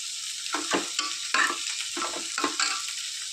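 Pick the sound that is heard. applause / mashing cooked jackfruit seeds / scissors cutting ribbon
mashing cooked jackfruit seeds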